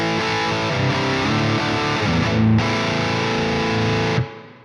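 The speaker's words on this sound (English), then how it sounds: "you have a reverb here, and this reverb is really nice" An electric guitar rings out through a smooth, solid reverb at default settings, sustained chords blooming and swelling with a brief break midway before the tail fades out.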